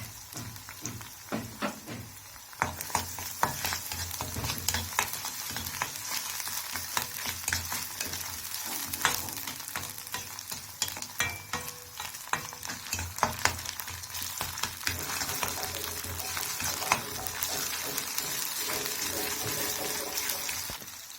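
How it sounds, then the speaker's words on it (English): Tomato paste fries in a pan with ginger and garlic for macaroni and peas, a steady sizzle broken by repeated scraping and clacking of a spoon stirring, fairly close and unaccompanied by talk. "We add our tomato paste."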